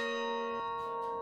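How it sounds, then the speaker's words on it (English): Bells in the bell tower of St. Michael's Russian Orthodox cathedral in Sitka, Alaska, ring at noon, with a sustained metallic tone shifting to a new bell strike midway, moderately faint. "complete with a bell tower which goes off every day at noon."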